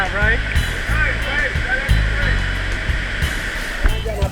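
Dunn's River Falls in Jamaica pours in a steady broad roar of falling water, close and continuous, while people talk over it.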